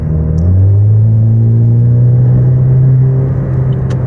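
A 2018 Chevrolet Camaro with an 8-speed automatic, a 2.0 turbo engine, a cold air intake and a muffler delete drones loudly from inside the car, a deep steady rumble whose pitch climbs slightly as it revs.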